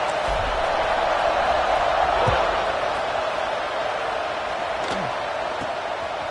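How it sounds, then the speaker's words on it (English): A stadium crowd at a Utah Utes college football game keeps up a loud, steady buzz of many voices and dense hubbub for the whole stretch, with a few faint thumps through the noise. "this crowd is buzzing after that last score"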